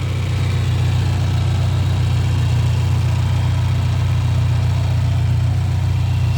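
A 1993 Suzuki Katana GX (Jimny Katana) engine idles smoothly, a steady, even low rumble that holds without change for the whole stretch, with no voices over it.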